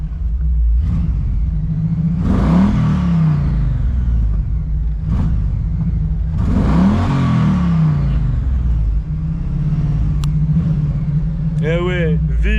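A 1977 Camaro Z28's 5.7-litre V8 rumbles at a deep idle and twice swells into loud, rising revs that fall back, heard close, with people talking briefly near the end.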